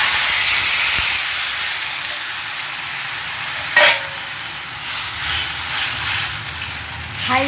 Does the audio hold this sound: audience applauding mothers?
no